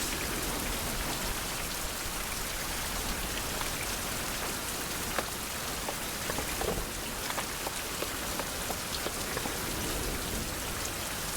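Steady rain falls in an outdoor wilderness scene of a survival video game, a dense, even hiss of drops on surfaces throughout, with no voices.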